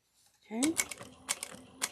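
A sewing machine back stitching to lock in faux piping on a change pouch, heard as a short burst of close mechanical needle clatter with quick rhythmic stitches after a brief quiet start.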